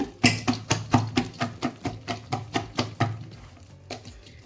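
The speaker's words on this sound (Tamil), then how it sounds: "இதை வந்து நல்லா மிக்ஸ் பண்ணிக்கணுங்க நல்லா அடித்து மிக்ஸ் பண்ணும்போது தான் நல்லா உப்பி வடை நல்லா வருங்க" Urad dal vada batter is beaten by hand in a bowl, giving a steady series of about a dozen sharp, wet slapping thumps at an even, brisk rhythm, close and clear, slowing and fading toward the end.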